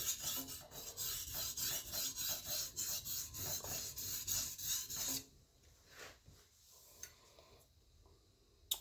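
A chef's knife is ground on a sharpening stone in steady, rhythmic rasping strokes, close and fairly quiet, thinning into sparse, lighter scrapes near the end.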